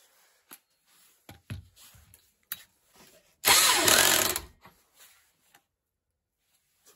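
Parkside PBH 800 hammer drill boring into concrete, a single loud burst of about a second rising out of quiet, preceded and followed by scattered small knocks and handling clicks.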